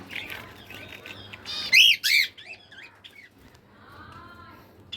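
Pet birds in a cage chirp and squawk in short bursts, with two loud shrill calls in the middle over quieter twittering and faint background rustle.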